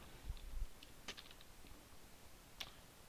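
Faint, sparse keystrokes on a computer keyboard, a few isolated clicks and a small cluster, quiet and close with no talking.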